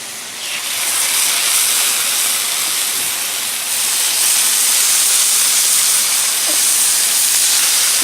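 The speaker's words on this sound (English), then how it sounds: "I'm going to let this sear on this side." Filet mignon searing on a Blackstone griddle gives off a loud, steady, hissing sizzle that fills the whole stretch up close, with no voices over it.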